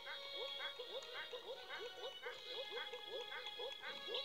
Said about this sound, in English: Everyone wants to listen to Luigi duck.